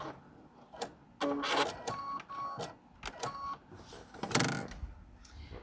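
Sewing machine stitching pale blue matching thread along the edge of a vest, heard as short bursts of mechanical whirring and clicking with brief pauses between runs, close and fairly loud.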